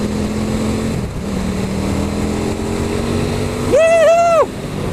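A KTM RC8 motorcycle on a test ride, its engine holding a steady low drone before a loud, sharp rev rises and falls in quick bursts, then settles back.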